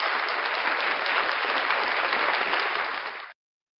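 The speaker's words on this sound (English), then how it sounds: "Round of applause for Black Art Knight." Dense applause from an audience, loud and steady for about three seconds before cutting off abruptly into silence.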